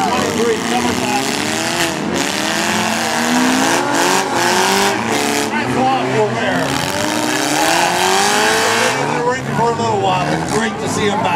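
Race cars at a 2018 Russell mini heat rev and pull around the track, engines rising and falling loudly alongside tire noise and a commentator talking throughout.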